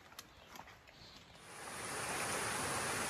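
A creek flows beside a campsite on the Appalachian Trail, giving a steady broadband rush of water that starts softer with a few faint ticks, then swells after about a second and a half into a louder, continuous close-up wash with no voices.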